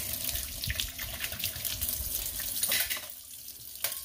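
Tap water runs steadily into a sink while an agatized coral geode is rinsed, a soft continuous splashing with faint uneven shifts in the flow, heard alone without talk.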